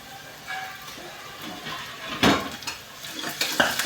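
Onions and tomatoes frying in a pan, a low steady sizzle broken by several scraping stirs and utensil knocks against the pan, close by with no speech.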